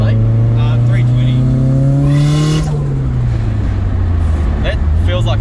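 Nissan SR engine revving hard in a Silvia S15, a loud rising then falling rev with strong harmonics and a brief higher-pitched burst, heard from inside the car over a steady engine drone.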